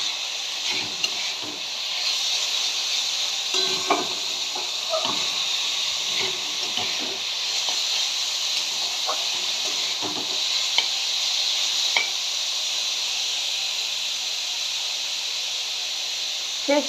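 Red amaranth leaves cooked with almond and poppy-seed paste fry in a pan over a raised flame, with a steady close hiss and sizzle and occasional light stirring scrapes throughout.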